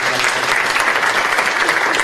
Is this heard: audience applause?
yes